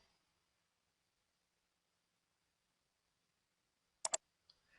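A quick double mouse click in near silence, two sharp close ticks in rapid succession followed by a fainter single tick.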